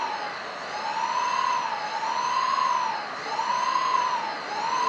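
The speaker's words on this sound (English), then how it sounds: "all 4 motors, 4 or 6 motors should switch on and equal." Four or six drone motors spin up together during autopilot calibration, giving a steady, loud whine that slowly swells and dips in pitch in a repeating wave, with no voices.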